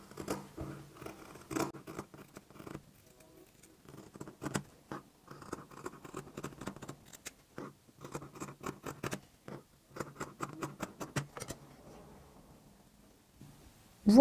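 Scissors cut through two layers of cotton tricoline fabric for face masks, making a close series of crisp snips in uneven bursts with short pauses between them and a louder bump at the very end.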